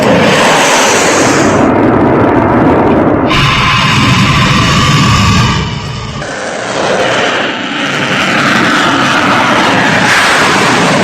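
Missiles striking and exploding at night in war footage: a loud, continuous roar and rumble with a sharp shift midway and a brief dip before the din resumes, no voices.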